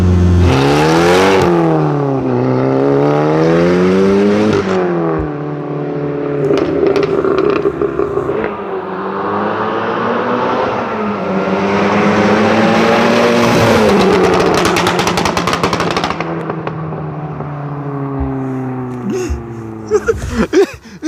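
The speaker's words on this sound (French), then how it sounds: "Heureusement que c'est une voiture de circuit, hein." A race car revs hard and accelerates around a circuit, its engine climbing and dropping through repeated gear changes, loud and close throughout with a few sharp pops near the end.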